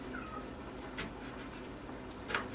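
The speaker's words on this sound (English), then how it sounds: "I hear the cats yelling" Cats meowing for food while steak cooks in a kitchen, two or three brief high calls spread out over a faint background hum, fairly distant and with no talking.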